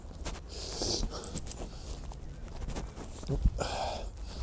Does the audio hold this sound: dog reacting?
yes